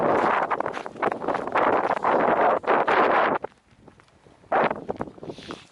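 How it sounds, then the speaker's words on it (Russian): Strong wind buffeting the microphone on an open bay beach near Vladivostok in October, loud roaring gusts that drop briefly to a quieter lull before surging again. "Да, здесь, конечно, задувает ветер."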